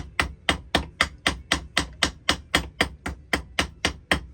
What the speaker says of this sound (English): You can also put it on the vise here, go into the rivets, little ball peen hammer.